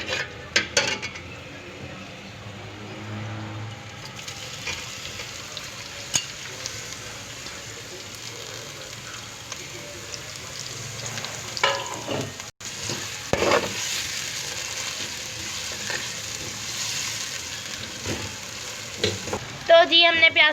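Onions sizzling in hot oil with cumin and whole garam masala for a keema with capsicum, a steady frying hiss broken by stirring scrapes and clinks of a spoon against the pan, close and without talk.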